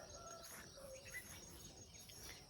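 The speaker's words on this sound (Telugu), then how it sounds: "అదండి నాకు ఈ పిట్టల అరుపుల కోసం వచ్చారన్నమాట నేను గార్డెన్లోకి." Birds chirp and call faintly in an early morning garden, their short tweets scattered over a steady background of insect buzzing.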